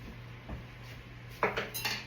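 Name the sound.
handling whisks in the kitchen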